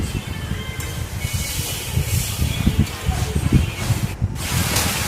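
Water hits dried fish heads frying in a pan with green chilies and garlic, setting off a loud, continuous hissing sizzle that steadies into a bubbling spray.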